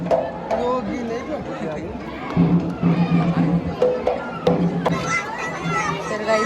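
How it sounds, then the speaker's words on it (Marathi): A crowd bustles at Jyotiba Temple in Kolhapur, where a cabinet minister is visiting and a children's picnic has arrived: a dense mix of adult chatter and children's voices throughout, with someone speaking close by over the noise. "त्यामुळे बघा गर्दी किती झाली"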